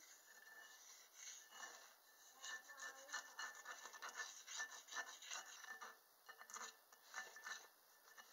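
Scraping and rasping at hardened, dried wood ash powder caked inside an electric skillet, with uneven bursts of gritty scratching strokes up close, no talking.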